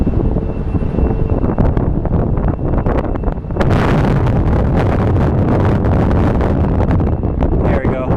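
A Southwest airliner taxiing fast at Sky Harbor Airport, heard as a loud, continuous jet engine roar mixed with heavy wind buffeting on the microphone.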